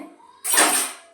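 Washed cups, plates, glasses and steel utensils clatter together in one loud, close, bright jangling burst in a home kitchen, then fade out.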